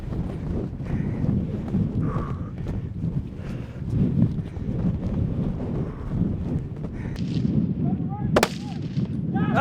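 A gunshot rings out during a bull hunt, a single sharp loud crack near the end, over constant wind buffeting and movement noise outdoors.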